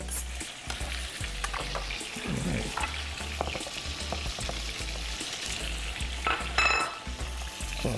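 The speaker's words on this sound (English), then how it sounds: "it's starting to get that nice sear right there" Chicken searing in a hot pan for chicken Marsala, a steady close sizzle with intermittent crackles and stirring scrapes, heard on its own without talk.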